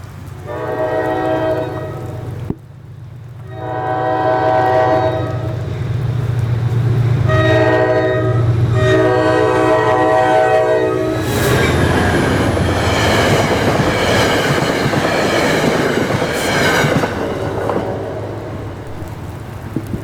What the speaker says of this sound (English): first stopping at Oradell for New Jersey Transit 2117 to Spring Valley